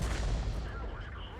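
A heavy artillery gun fires in a tank battle video game, giving a loud, booming blast whose low rumble decays over about a second.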